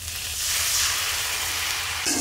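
Water poured into a pan of spicy chilli masala frying for a village-style hilsa fish curry sets off a steady, close hiss of sizzling that holds throughout, with a brief louder burst near the end.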